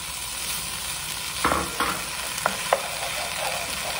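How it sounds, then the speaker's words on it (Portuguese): Tomato dropped into hot olive oil in a soup pot for Moroccan lentil soup, a continuous close sizzle and frying hiss with a few brief stirring clicks and bumps midway. "Agora que ela está bem envolvida no azeite, eu vou colocar o tomate."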